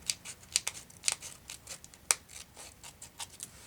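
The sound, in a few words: scissors cutting paper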